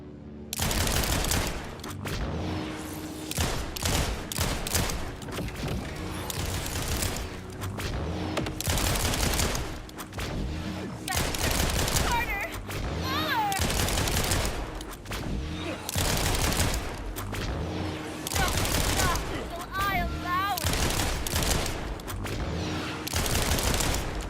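A pistol in the video game Borderlands 4 fires in rapid, loud volleys nearly without pause, mixed with explosions and battle noise, with short vocal sounds underneath.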